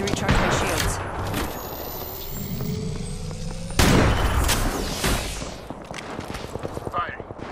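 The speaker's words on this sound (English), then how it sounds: "The squad is firing on us." Enemy squad gunfire in a sci-fi shooter, a rapid fusillade of crackling shots with whooshing weapon sweeps and mechanical clatter, steady and fairly close throughout.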